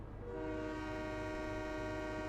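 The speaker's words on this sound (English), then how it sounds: "And, of course, we'll do the horn." Sustained horn of a TGV Thalys high-speed train in the Trainz Simulator 2 game, Paris Gare du Nord, one steady loud multi-tone blast, heard alone.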